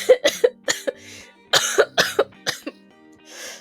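A person coughs repeatedly up close, a run of harsh, rapid coughs in clusters with brief pauses and a throat-clearing rasp near the end.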